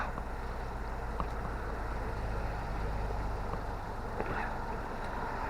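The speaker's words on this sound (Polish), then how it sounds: "Silnik pracuje równo." A Renault Megane Cabrio engine idling evenly at a used-car dealer, a steady low rumble holding constant throughout with no revving.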